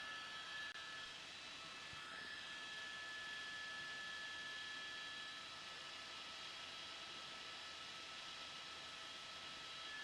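Jet airliner landing on runway 8 at Burbank airport in California, a steady broad roar of engine and air rush holding loud and even throughout, with no voices.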